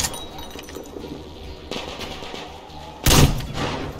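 Sniper rifle fire in a video game: one sharp, loud shot bursts out near the end over a steady background of game ambience, with a fainter crack earlier.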